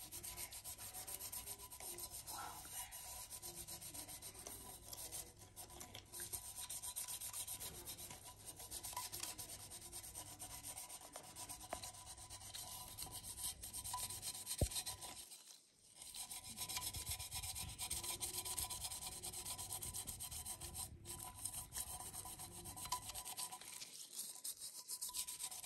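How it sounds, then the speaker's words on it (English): A lemon half dipped in salt rubs against a cup in a steady, close scraping rasp that continues for the whole stretch with brief pauses and quiet background, no talking. "rub the lemon on the cup"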